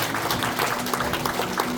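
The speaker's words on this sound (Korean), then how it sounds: "서로에게 큰 박수와 인사 격려 해주시면 고맙겠습니다." An audience applauds at a Democratic Party Chungbuk provincial strategy seminar, a loud, dense spread of clapping hands from a roomful of people that carries on steadily with no pause.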